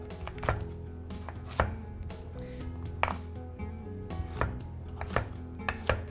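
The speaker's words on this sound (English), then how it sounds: "just get nice cubes, chunks here, about 1-inch chunks" Knife chopping sweet potatoes into roughly one-inch cubes on a cutting board, a series of sharp, irregularly spaced close chops with light clinks between them.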